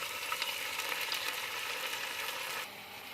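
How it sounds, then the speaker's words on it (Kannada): A ground paste of tomato, onion, cashew and chickpeas hits hot oil in a pan for kabuli chana masala, producing a bright, continuous sizzle with faint stirring that drops noticeably quieter near the end. "ನಾವು ಮಿಕ್ಸಿ ಮಾಡಿ ಟೊಮೊಟ ಟೊಮೊಟೊ ಈರುಳ್ಳಿ ಗೋಡಂಬಿ ಹಾಗೆ ಕಡಲೆಕಾಳನ್ನು ಸಹ ಹಾಕ್ಕೊಂಡು ಅದನ್ನು ಇವಾಗ ಈ ಟೈಮಲ್ಲಿ ಹಾಕೋತಾ ಇದ್ದೀನಿ"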